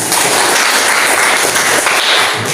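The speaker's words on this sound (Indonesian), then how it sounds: "tepuk tangan" Classroom applause during a teaching practice lesson, a dense, steady wash of many hands clapping at once, loud and continuous from start to finish with no talk over it.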